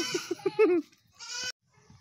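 Goats bleat twice nearby, a shaky, quavering call followed by a second shorter bleat, with a brief quiet gap between them.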